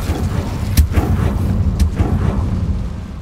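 A fire spell cast in the video game Hogwarts Legacy, with two sharp bursts standing out over a dense, rumbling game backdrop that carries through the clip.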